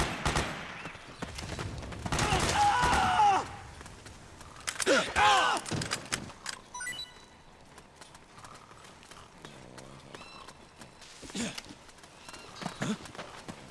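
Gunfire in the video game Metal Gear Solid 4 comes in loud bursts of rapid shots, then trails off into scattered softer shots and game ambience, with clattering hoof-like footsteps in between.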